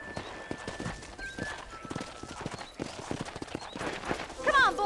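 Steady clip-clop of horse hooves walking at an even rhythm in the video game Red Dead Redemption, close by, with a faint tonal hum behind and a brief whinny near the end.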